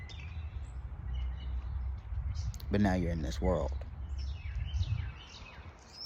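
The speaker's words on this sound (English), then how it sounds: "I hear these things chirping, like, and we call them birds" Small birds chirp outdoors at a moderate distance over steady low background rumble, their calls scattered across the clip while someone speaks loudly in the middle.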